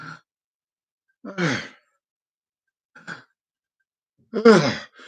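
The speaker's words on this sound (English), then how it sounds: "when I feel a yawn coming out, I breathe out." A few breathy exhalations spaced out over several seconds, soft sighing outbreaths, the last one longer and more forceful, with brief quiet between them.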